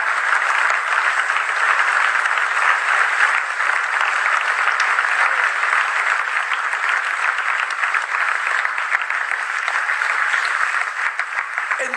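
A church congregation claps together in loud, steady, dense applause that fills the hall from start to finish without a break.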